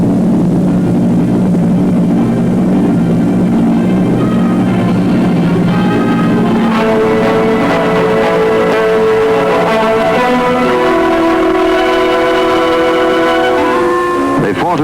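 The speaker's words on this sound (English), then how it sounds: "The bombers turned from the dawn." WWII Canadian bomber aircraft in flight, a steady loud multi-engine drone holding throughout, joined partway by sustained tonal notes that shift in pitch.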